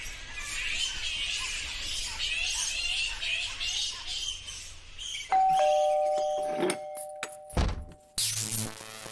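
A doorbell chimes with a sustained electronic tone after a stretch of noisy background, followed by a few thumps and clatters.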